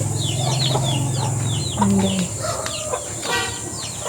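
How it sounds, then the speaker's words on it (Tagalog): Chickens cluck and squawk close by in a busy chorus, with a brief spoken phrase partway through. "Diba, dami namin manok."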